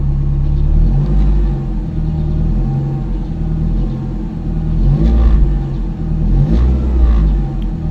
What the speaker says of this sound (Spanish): Ahora vamos a acelerar un poco también para ver cuál es la respuesta del acelerador